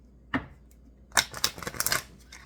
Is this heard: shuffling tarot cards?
yes